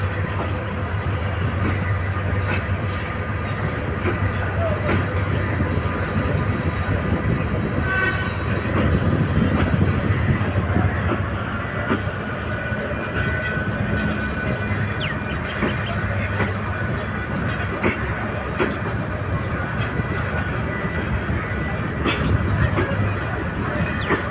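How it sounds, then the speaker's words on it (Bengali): The Rangpur Express pulls out of platform two at Dhaka's Kamalapur railway station. Its carriages roll past in a loud, continuous rumble of wheels clattering over rail joints, swelling slightly midway and holding close throughout. "Rangpur express Dhaka Kamalapur rail station ছেড়ে যাচ্ছে দুই নম্বর প্ল্যাটফর্ম থেকে"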